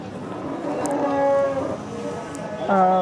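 At a cow market, cattle low loudly and close by, with one long drawn-out moo followed by another rising call near the end over a background of market murmur.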